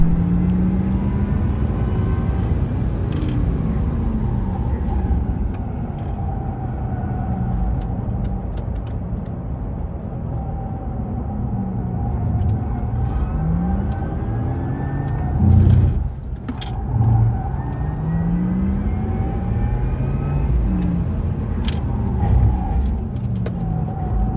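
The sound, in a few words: modified Subaru WRX car on a race track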